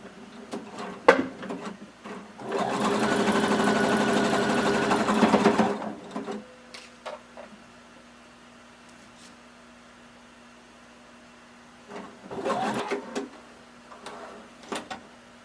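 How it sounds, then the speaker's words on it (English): A sewing machine stitches through swimwear fabric and its lining in one sustained, loud run of several seconds, framed by scattered clicks and fabric handling, with a shorter burst of stitching near the end. "I'm sewing about a 1/4 inch away from the edge of my fabric"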